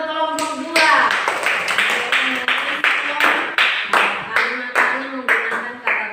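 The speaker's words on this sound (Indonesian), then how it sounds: "Oke, tepuk tangan buat kelompok 2." Classroom pupils clap in a steady rhythmic pattern for a student group, with many voices chanting along between the claps.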